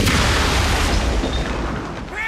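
A Panzerschreck rocket launcher fires in a Saving Private Ryan battle scene, a heavy booming blast with a broad rumbling decay lasting about two seconds, loud and dense with battle noise.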